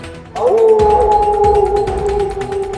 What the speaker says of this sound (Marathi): तिला कोल्ह्याचा आवाज ऐकू आला